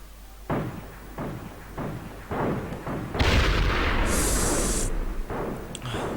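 Several sharp booming blasts ring out in sequence in the shooter game AVA, followed by a louder, sustained explosion with rumbling and hissing debris.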